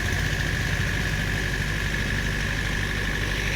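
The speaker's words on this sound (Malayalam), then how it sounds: "ഇപ്പോൾ ഒരു പുതിയൊരു ജനറേറ്റർ കൂടി കൊണ്ടുവന്നിട്ടുണ്ട്" A newly brought generator at a fish pond runs at a steady idle, a continuous close mechanical drone with a low throb and no voices.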